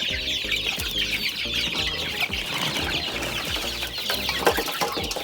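Month-old chicks and other chickens cluck and peep steadily in cold rainy weather, a busy, continuous chorus of close and overlapping calls with occasional wing flutters and no talk.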